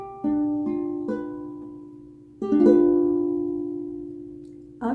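A guitar chord strummed and left ringing, then strummed again about halfway through, each strum decaying slowly with no voices.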